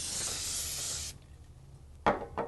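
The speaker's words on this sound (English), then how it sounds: "I'm going to grab my image and lightly mist it with some Conde Pro Spray." Conde Pro spray adhesive mists lightly over a dye-sublimation image for a tee in one steady hiss of about a second, followed by quiet and a couple of soft handling knocks.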